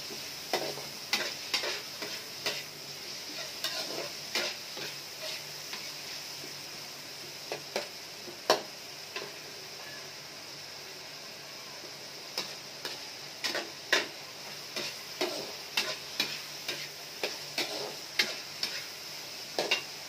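Pork spareribs simmer and sizzle in a pan with tomatoes and onions, under a low steady bubbling hiss. Frequent light clicks and taps from stirring come through clearly up close, with no voices.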